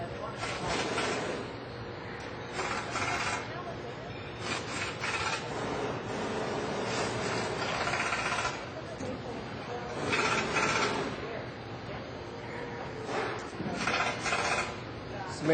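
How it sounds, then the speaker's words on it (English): Screws are tightened in sequence while assembling an Armstrong Series 4300 pump, making a repeated close rasping, rubbing scrape of tool against metal that comes in uneven bursts. "going to tighten the screws in sequence"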